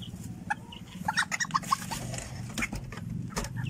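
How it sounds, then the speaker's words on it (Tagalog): A tiny Malaysian Serama chicken clucks in a series of short, bright calls over a steady low hum, with other birds and fowl sounding faintly nearby. "ang aking Malaysian Sirama na napakaliit na manok"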